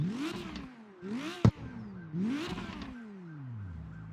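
A Lamborghini engine in the CarX Street racing game revs three times in a row. Each rev rises sharply and then falls away, with a brief sharp click in the middle. The revs are clear and close, with no talk.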